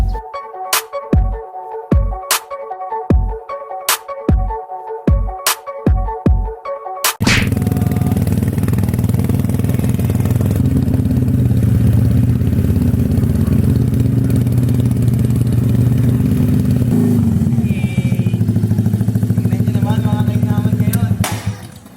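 Motorcycle engine revving through a newly mounted exhaust pipe: a run of sharp, evenly spaced blips, then a sustained loud, rumbling rev held for about fifteen seconds up close.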